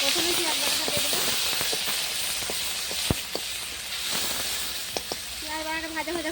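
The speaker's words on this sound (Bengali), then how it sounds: "পেঁয়াজ বাটাটা ভাজা করে নিলাম" Onion paste frying in a pan over a clay stove, giving a steady close hiss and sizzle with occasional sharp pops and crackles, while a voice talks intermittently over it.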